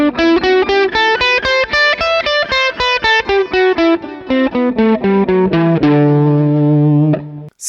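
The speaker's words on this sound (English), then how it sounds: "5 is your D Mixolydian mode." Fast picked notes from a distorted electric guitar climb and descend a D Mixolydian mode, then settle on a held low note that fades before a brief cutoff.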